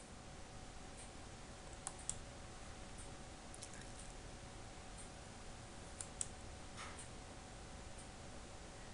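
Faint, sparse clicks from a computer keyboard while typing code, a few scattered keystrokes against a quiet hiss, with no voices.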